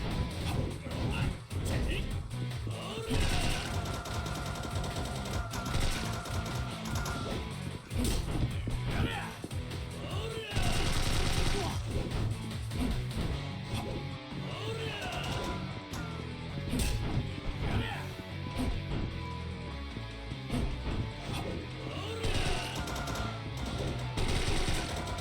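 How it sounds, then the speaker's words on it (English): Rapid machine gun fire in Yakuza 4, dense sustained bursts layered over a busy, loud game mix throughout, with brief pauses between volleys. "I seriously hate machine guns in this game"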